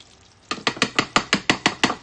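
A spoon stirring miso paste in a bowl for vegan cheddar cheese, nine sharp rhythmic knocks and scrapes in quick succession, close and clear with no talking.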